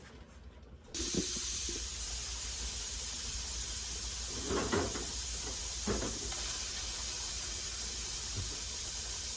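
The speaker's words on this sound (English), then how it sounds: "When you can see a straight stream of steam coming out of the vent pipe, then that's when you start to time." Steam hisses steadily from the vent pipe of a pressure canner while milk and orange juice are being canned, a loud continuous rushing jet that starts abruptly after a quiet second, with a few faint clicks and bumps over it.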